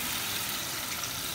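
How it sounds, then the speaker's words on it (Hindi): Half a glass of water is poured into a simmering chicken and potato curry, giving a steady, soft splashing hiss for the whole short moment with no voices. "अब इसमें हम 1/2 गिलास पानी डाल देते"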